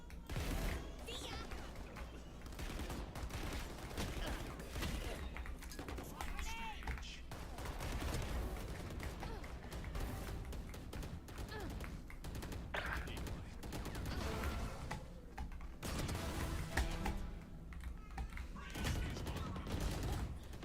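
Gunfire in a shooter video game comes as dense, continuous bursts of rapid shots and fusillades, loud and close throughout, with voices now and then.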